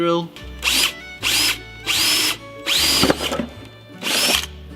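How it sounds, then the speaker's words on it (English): A power drill whirs in five loud bursts, each spinning up and winding down, with short pauses between them, in a garage working on a 1970 Firebird. "that's a good drill"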